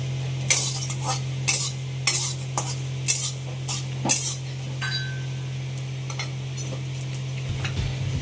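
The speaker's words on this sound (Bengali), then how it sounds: "এটা একটু ভাজা ভাজা হচ্ছে" White sesame and poppy seeds stir-fried in a pan, with a steady low hum beneath repeated sharp clinks and scrapes of a metal spoon against the pan at a regular rhythm, close and fairly loud, with a faint sizzle.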